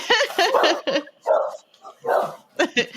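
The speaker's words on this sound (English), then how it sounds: "Oh, we both have we both have many dogs." Several dogs barking at someone at the door indoors, close sharp barks in quick clusters with short gaps, some higher yips mixed in.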